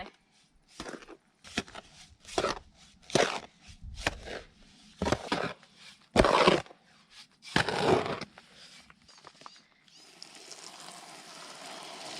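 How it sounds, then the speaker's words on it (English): Repeated scraping, gritty crunches of a shovel working through a coarse wet concrete mix, about a dozen strokes at an uneven pace, close by, then quiet. "I'm back to my trusty shovel"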